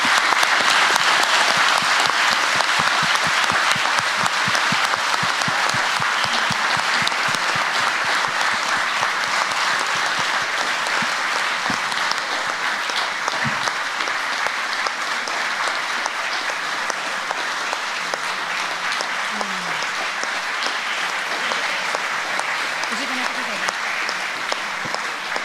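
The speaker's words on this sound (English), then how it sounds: "I would really ask you now to give a huge applause to our guest" A large university lecture audience in Paris applauds a guest speaker, sustained dense clapping that holds steady and loud for the whole stretch with only faint scattered voices beneath.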